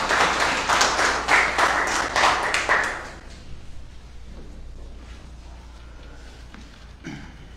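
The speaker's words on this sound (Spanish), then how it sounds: "Recibamos con fuertes aplausos al concejal Leonidas Villamar" Applause for a councillor at a ceremony crowning a new local queen in Urdaneta, a burst of rhythmic clapping for about three seconds that then drops to a low murmuring room with faint scattered sounds.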